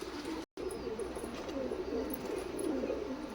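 Blue Nila Kamagar pigeon of Pakistani bloodline cooing softly among other birds, low rolling coos under a faint background murmur with a brief dropout near the start.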